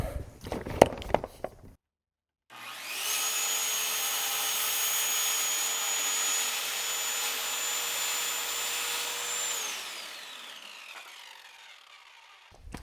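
A power saw run from a portable power station spins up and whines steadily for about seven seconds, then winds down, heard close after a few brief clicks and handling sounds.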